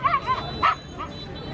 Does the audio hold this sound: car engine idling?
no